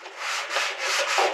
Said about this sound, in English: block sanding